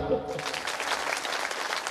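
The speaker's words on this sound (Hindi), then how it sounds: "ताली बजा।" Audience clapping during a Hindu religious discourse on the Bhagavata Purana, a dense, steady burst of applause from a gathered crowd filling the whole moment at close range.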